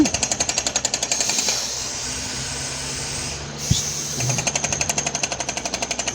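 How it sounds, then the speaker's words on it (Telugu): Rapid, heavy hammering from a borewell rig's vibrating drill driving into hard earth, loud and near, breaking into a lower continuous churn midway and then returning to its fast rhythmic pounding. "వైబ్రేషన్ ఇచ్చి డ్రిల్ చేస్తున్నారు"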